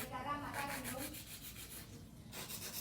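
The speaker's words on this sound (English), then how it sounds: "So I'm gonna use my 100 grit filer." A 100 grit file shaping an acrylic nail, close rhythmic scratchy rasping strokes in quick back-and-forth bursts, briefly pausing before resuming.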